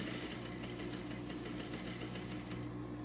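A sewing machine stitches a blouse with front gathering, a steady, close, continuous whir with a rapid needle rhythm that does not pause for three seconds.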